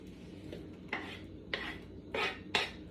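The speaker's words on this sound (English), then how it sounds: "lastly, I dump in my mushrooms" Mushrooms are dumped into a cooking pot of steak and gravy, giving four or five soft scraping clatters against the pot at a steady pace over low, steady kitchen background noise.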